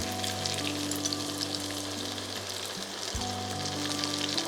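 Tomato puree hits a hot pan for cauliflower kofta, giving a continuous, even sizzle and crackle over a faint steady hum, with no voices.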